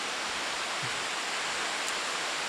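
Steady rain falls as a dense, even hiss that stays unbroken and fairly loud, with no voices over it.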